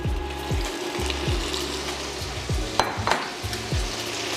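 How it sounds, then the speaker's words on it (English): Andouille sausage browning in olive oil in a pan, a steady close sizzle with repeated stirring scrapes and clinks at irregular intervals, no talking. "Now I add my andouille sausage."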